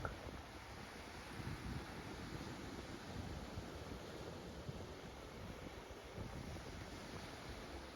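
Ocean surf plays as a soft, continuous wash of waves for meditation, a faint, steady roar with no distinct breaks or voices.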